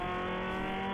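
Race car engine on the Mid-Ohio road course during a ChampCar endurance race, a steady loud harmonic drone holding high revs for the whole second as cars pass one another.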